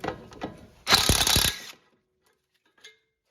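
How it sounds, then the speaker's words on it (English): A ratchet fitted with a 12mm socket works on the brake hose bolt of an Acura RDX, making a short burst of rapid clicks followed by a faint metallic tap in otherwise quiet surroundings. "Remove the bolt that holds the brake hose on. It's a 12mm socket."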